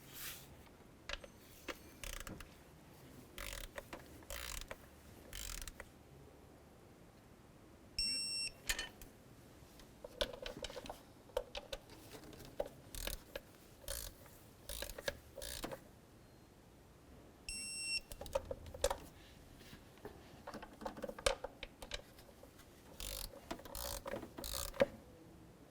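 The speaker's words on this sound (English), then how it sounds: "When we torque these, we're going to torque them to 20 foot-pounds." Intake manifold bolts on a 2007-12 Nissan Sentra being tightened with a torque wrench to 20 foot-pounds, working out from the center: repeated close, crisp ratcheting bursts separated by pauses, plus two brief high-pitched beeps.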